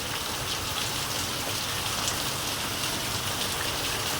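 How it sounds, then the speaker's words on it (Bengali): Heavy rain pours steadily in a Bengali village setting, a dense, even hiss of drops beating on surfaces with no break, loud and close throughout. "দেখছেন কি অবস্থা বৃষ্টির"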